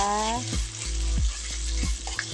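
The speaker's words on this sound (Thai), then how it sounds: "นี่เราก็จะผัดพริกแกงกระเทียมแล้วก็พริก ผัดให้สุกเลยนะจ๊ะ" Curry paste with garlic and chili stir-frying in a hot pan, a steady loud sizzle broken by repeated scrapes and knocks of the spatula, with a brief tonal whine at the very start.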